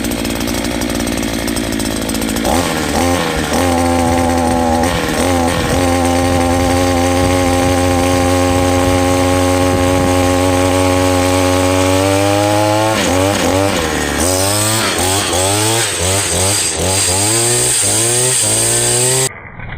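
A cheap 52cc petrol hedge trimmer revs loudly, its two-stroke engine whining steadily and then bogging and rising repeatedly as the blades bite into thick wood, close and continuous.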